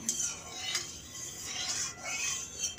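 A utensil scrapes and rubs around a metal wok in repeated close strokes as oil is spread, with no talking.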